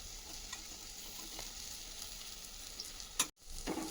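Onions, fenugreek leaves and dried prawns fry in a pan with a continuous bright sizzle, light clicks of stirring, and a brief dropout near the end.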